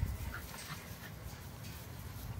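A puppy at a kennel whimpers faintly, giving a few soft, brief whines over low background noise.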